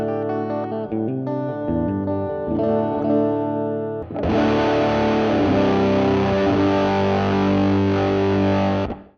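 Electric guitar played through a DIY RAT distortion pedal, sustained distorted chords ringing out, then a thicker, denser crunchy chord that holds loud until it cuts off at the end.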